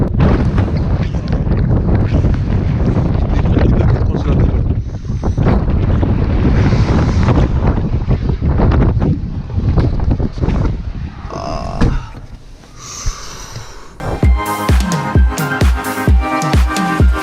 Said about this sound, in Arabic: وكتشوف كاين الريح بزاف، هو امبوسيبل انك تاخذ شي صوره هيدا في هذا الريح هذا